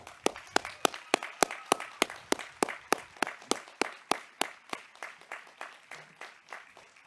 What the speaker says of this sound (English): let's give them a sustained round of applause